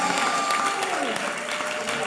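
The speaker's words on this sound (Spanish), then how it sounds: "Démosle un aplauso, démosle gloria al Señor Jesús." Church congregation applauding during a Spanish-language worship service led by a pastor, a steady dense wash of clapping lasting throughout, with faint voices underneath.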